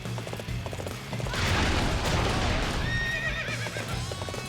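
Horse in the Dynasty Warriors 8 video game whinnies loudly mid-clip over rapid galloping hoofbeats and battle rumble, the whinny rising and trailing off near the end.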